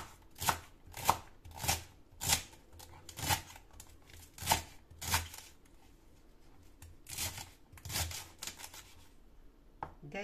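A knife chops through freshly harvested celery on a board in a steady run of about a dozen sharp, close strikes, then slows into softer, irregular cuts.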